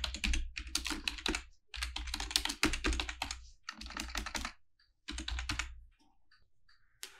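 Quick, close bursts of typing on a computer keyboard enter a site name, with clusters of rapid clacks broken by short pauses and a few scattered final taps, and no talk.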